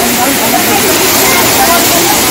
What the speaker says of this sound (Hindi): तो ये है वुडलैंड का झरना